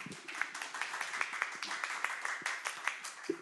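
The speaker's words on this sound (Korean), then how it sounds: "큰 박수로 맞아주십시오." An audience at a business policy seminar claps to welcome an economist speaker, a moderate spread of individual hand claps forming light, steady applause across the hall.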